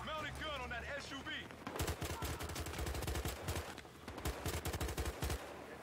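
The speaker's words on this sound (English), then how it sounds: "Mounted gun on that SUV." Rapid bursts from a mounted gun on an SUV in the Battlefield Hardline multiplayer match, loud repeated gunfire volleys after a brief stretch of voices and game noise.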